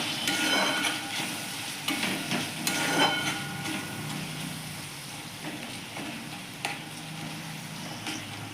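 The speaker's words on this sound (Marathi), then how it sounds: "हे सर्व मसाले आता चांगले भाजून घेऊया" Spices roasting in a hot pan for dal palak, with a steady dry sizzle and intermittent scraping from stirring, close and moderately loud throughout.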